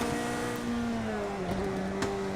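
A Ferrari engine in Project CARS 2 revs hard and steadily, holding high near the rev limiter with slight pitch shifts, loud and continuous with no talk.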